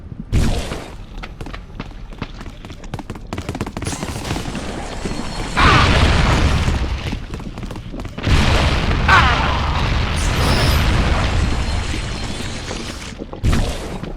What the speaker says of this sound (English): Hold the secondary fire button to charge the bio rifle and release to fire a massive